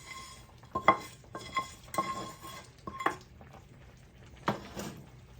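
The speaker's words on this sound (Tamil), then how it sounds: "இதோடு நான் தாளித்து கொட்டிக்கொள்கிறேன்" Spoon and pot clatter as a tempering is poured into fish head kulambu, several separate metallic clinks and knocks spaced over a few seconds, with faint sizzle and no talk.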